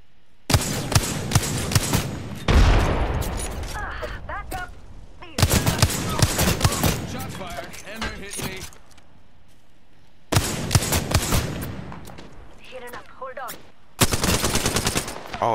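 Rapid gunfire bursts from a squad-based shooter video game, loud and close, arriving in several clusters of sharp repeated shots separated by gaps, with players talking over and between the bursts.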